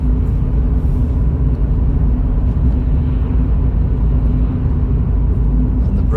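A car on a night drive from Ashton-under-Lyne to Wigan, heard from inside as a dense, steady low engine and road rumble while the driver eases off the accelerator and brakes lightly, loud and continuous with no clear change.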